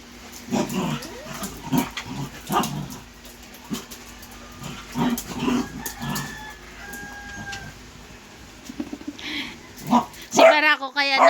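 Several puppies yip and bark in short, scattered bursts as they scuffle over toys, with quieter gaps between outbreaks. A person talks softly in the background, and a louder burst of barking comes near the end.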